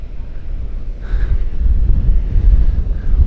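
Wind blows across the microphone and ocean waves roll in on a black sand beach in Iceland. The roar is steady and loud, builds partway through, and has no voices.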